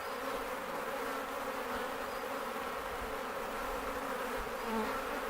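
Honey bees buzz loudly around a hive frame that has just been shaken during a hive split. The dense, continuous drone stays close and steady throughout, with no voices.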